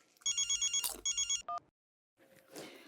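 A telephone ringing in a home scene from a Hindi TV comedy, two quick bursts of trilling electronic rings followed by a short tone, then a pause and faint rustling.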